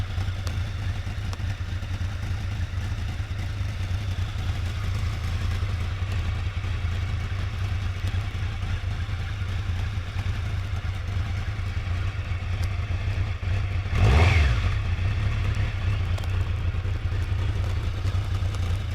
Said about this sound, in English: There's a little bit of cam chain rattle when the engine's cold